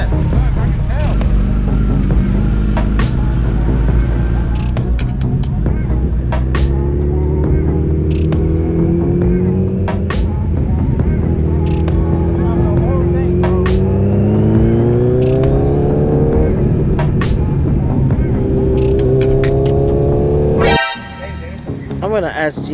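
Kawasaki ZX-14R motorcycle engine under riding load, a loud, steady drone whose pitch repeatedly climbs and eases as the throttle changes, cutting off abruptly near the end.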